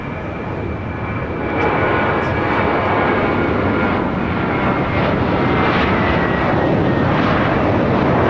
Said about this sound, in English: taking off to Miami, Florida on an A321 with JetBlue Airways Flight